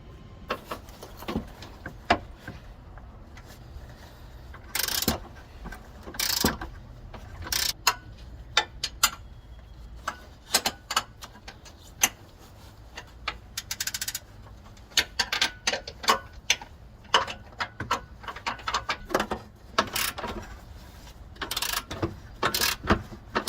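A ratcheting wrench backs out 18 mm front bumper bolts on a 2022 Ram 2500, a long series of rapid clicking ratchet bursts with sharp metallic knocks, close and irregular in rhythm.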